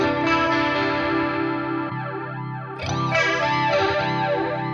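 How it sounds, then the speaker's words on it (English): Distorted electric guitar chords through a Boss Katana 50 amp's phaser effect, a sweeping, whooshing phase that rises and falls in slow cycles, loud and steady. "Some sort of phaser."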